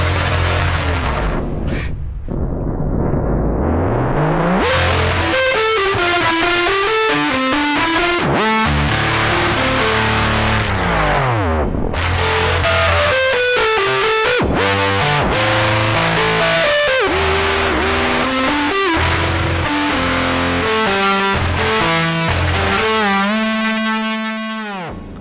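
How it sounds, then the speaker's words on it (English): A piano is played through a Big Muff distortion pedal and a whammy pedal set to dive bomb. The result is loud, thick, fuzzy sustained notes whose pitch swoops down and back up in repeated dramatic bends over a long continuous passage. "now the Big Muff and the dive bomb effect on the whammy pedal"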